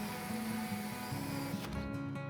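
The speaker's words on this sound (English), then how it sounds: "Using a hole saw, cut the holes for each light" Hole saw on a power drill cutting round holes for recessed ceiling lights, a steady close grinding whir with a dense rasp that runs the whole time and shifts in tone near the end.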